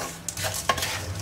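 Anchovies frying in sambal in a pan are stirred, a few quick scraping strokes over a steady close sizzle, brief and without talk.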